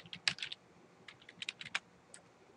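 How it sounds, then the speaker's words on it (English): Keys clack on a computer keyboard as an essay is typed into a text entry box, irregular bursts of soft taps with short pauses, close and alone. "you wanted to make sure that you typed in your essay"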